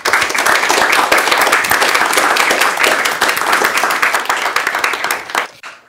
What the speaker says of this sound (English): Let's give a round of applause for Celeste.